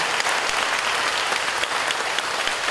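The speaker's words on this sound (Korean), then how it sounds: "나머지 분들은 한번 힘차게 격려의 박수를 한번 힘내십시오" A church congregation claps in encouragement during a sermon, a dense, even wash of applause holding steady from start to finish with no talking.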